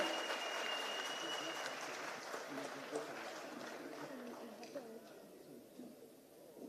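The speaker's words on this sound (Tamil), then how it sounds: "மீண்டும் ஒரு முறை ஒரு பெரிய கைத்தட்டல் கொடுத்துடலாம்" Audience applause at a Tamil book launch event in Coimbatore, a steady wash of clapping that slowly fades, moderately distant, with a voice speaking over it.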